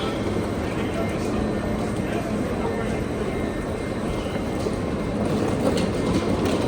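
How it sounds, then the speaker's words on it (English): Steady low rumble and rushing noise of a Eurostar train running on rails between Amsterdam and London, heard continuously at close range without pauses or spoken words. "This train is so long"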